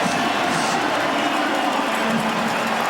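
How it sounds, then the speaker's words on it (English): A dense, steady roar from a stadium crowd at Mosaic Stadium as the Saskatchewan Roughriders play the Calgary Stampeders in a CFL football game, a broad wash of cheering that holds at a constant level throughout. "The crowd springs to life here at Mosaic."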